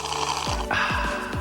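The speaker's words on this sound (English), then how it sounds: "this is the sound of someone taking a long sip." A long sip of Coke through a straw, heard as close, rough slurping with repeated gurgling pulls over about a second and a half, with no voices.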